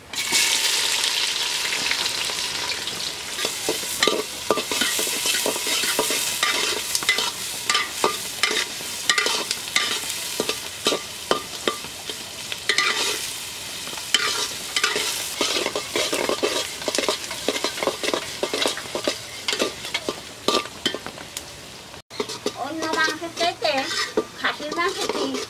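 Onion frying in mustard oil with cumin for mutton curry, a steady sizzle broken by frequent scraping and clattering stirs of a utensil against the pan, fairly loud and close, with a brief pause near the end.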